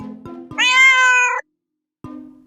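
A single drawn-out cat meow, loud and close, with clean harmonic tone lasting about a second, set between short spoken words before and after.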